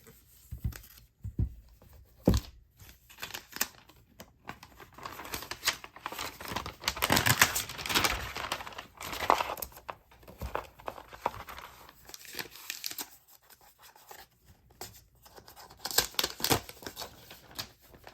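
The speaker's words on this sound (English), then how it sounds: "it's covered with like a paper cover. Let's go ahead and take that off." A paper cover sleeve is pulled and torn off a 2021 MacBook Pro M1 Max box, producing close, scattered crinkling, rustling and sharp tearing bursts over about eighteen seconds in a quiet room.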